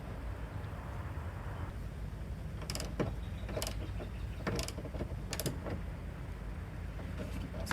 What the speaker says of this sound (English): Try to lock this in by tightening it.